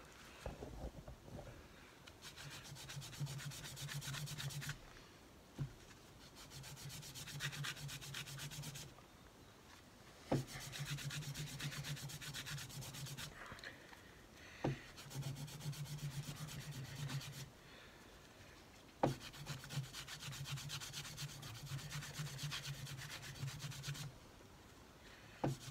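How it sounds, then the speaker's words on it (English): Scotch-Brite pad rubbed against a Honda CB 750 brake part, heard as repeated bursts of scratchy back-and-forth scrubbing, close up, with short clanks and pauses between strokes. "our old friend Scotch-Brite, we'll just give that a wee rub"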